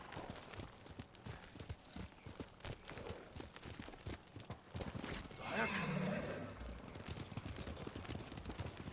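A horse in the video game Ghost of Tsushima whinnies and its hooves clip-clop faintly amid game sounds, while a player talks over it.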